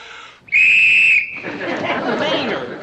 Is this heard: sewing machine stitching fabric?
no